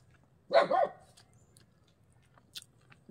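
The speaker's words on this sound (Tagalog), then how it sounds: "Naku, ingay ng aso na to." A single short dog bark, close and fairly loud, followed by quiet with faint background noise.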